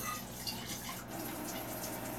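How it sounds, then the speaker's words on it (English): Running tap water rinses out an emptied tomato can in a kitchen, a steady soft splashing wash with light drips, alone and fairly quiet throughout. "And you can rinse this out and add that water back in there."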